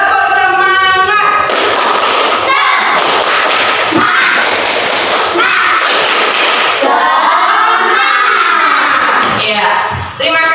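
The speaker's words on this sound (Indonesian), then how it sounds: "kita melakukan tepuk semangat" A classroom of children performs the tepuk semangat, a rhythmic clapping chant, with loud, sharp claps in a steady beat mixed with shouted young voices, close and energetic throughout.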